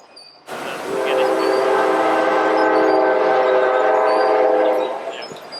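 A train on the Panama Canal railway rumbles past steadily for several seconds with a droning horn-like tone and faint rail clatter, swelling in and then fading slightly.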